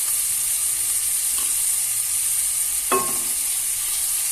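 Ginger garlic paste fries in a pan over onions in a home kitchen, a steady, even sizzle with a brief scrape or two of stirring and no voices.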